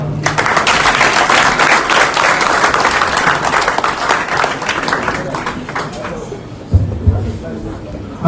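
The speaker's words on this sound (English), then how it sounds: "Another round of applause for the newest Inspector General of Police" A large crowd applauds steadily at a police handover ceremony for an Inspector General of Police in Nigeria, dense clapping that is loud and sustained before thinning out near the end.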